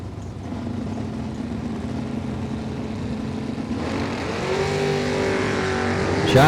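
Drag racing cars at a strip, among them a yellow Camaro, roar in a sustained engine drone that swells as they launch, with rising engine tones toward the end, loud and fairly near.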